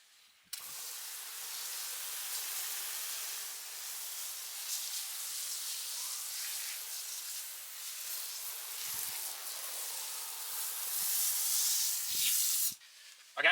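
Maniac wheel cleaner sprayed onto Range Rover wheels gives a long, steady hiss of aerosol spray, close and loud, running continuously for about twelve seconds with a few faint knocks near the end.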